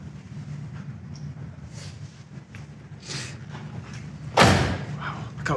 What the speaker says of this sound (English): easy that door closed too